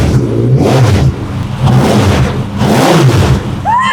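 A 1250cc sportbike engine fitted in a crashed formula car revs hard up and down in several loud, close surges over a rough idle.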